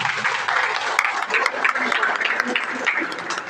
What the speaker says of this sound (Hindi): मैं एक बार पूरा एसएस बिजनेस के लिए जोरदार ताली चाहूंगा।